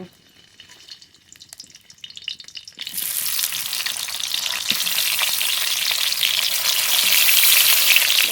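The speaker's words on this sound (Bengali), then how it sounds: "অল্প তেলে হালকা করে তেল দিয়ে পটলগুলো আস্তে আস্তে ঢেকে ঢেকে ভেজে নিতে হবে" Pointed gourd frying in a little mustard oil in a wok, a faint start that bursts into a loud, steady crackling sizzle after a few seconds and keeps building, with no talking.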